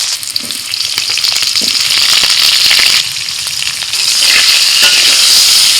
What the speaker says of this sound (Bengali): আবারও কড়াই বসিয়ে সর্ষে তেল দিয়ে দিয়েছি এবার আলুগুলোকে ভেজে নেবো